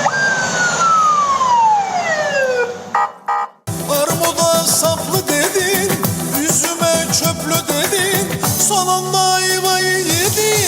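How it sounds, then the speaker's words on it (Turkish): A police car siren wails loudly and close by, its tone sweeping downward before cutting out briefly, then returning as a dense, blaring wail that continues to the end. "Acı olansa bir polis arabası siren çaldı, kediler ayrıldı."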